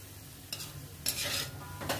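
Shankarpali, diamond-shaped Maharashtrian dough snacks, fry in hot oil with a soft steady sizzle, broken by a few brief louder bursts of bubbling and stirring, close and quiet.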